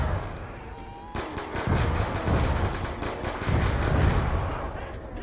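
Pistol gunfire in the Black Ops 2 video game, a rapid run of sharp repeated shots in quick bursts over game background noise, loud and close.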